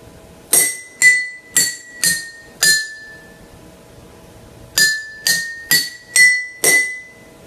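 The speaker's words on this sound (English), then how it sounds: "you have a wooden instrument, like a pencil, and you strike the middle of a glass." Water-filled glasses struck one at a time with a wooden pencil, ringing clear tones: five close strikes, a pause, then five more, each with a bright ringing decay, loud and alone.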